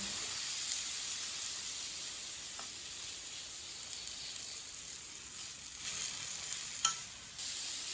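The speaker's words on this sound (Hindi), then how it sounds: "इसे अच्छी तरह मिक्स कर लेंगे" Finely chopped tomatoes cooking and being stirred in a hot pan for a salad, a bright steady hiss of sizzling with a few soft scrapes near the end, close and unaccompanied by talk.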